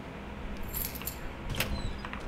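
Keys jingling in the video game Frigid Dusk, a steady metallic jangle with brighter clinks around the middle, heard over a constant background hum of the game.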